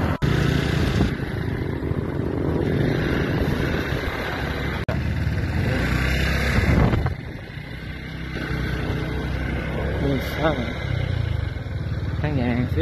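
A motorcycle engine drones past at a busy market in Kapatagan, Mindanao, its rough rumble rising and falling under ongoing talk and background bustle.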